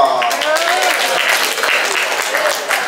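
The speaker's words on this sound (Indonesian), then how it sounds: "Tepuk tangan dong." Audience clapping steadily at a pesantren student orientation session as a student is called forward, a dense even wash of applause mixed with voices and some tonal chatter underneath.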